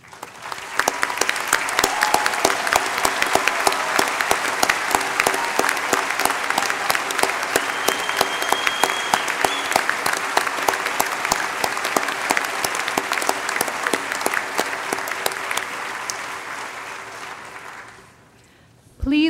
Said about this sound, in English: ladies and gentlemen, join me in applauding these outstanding students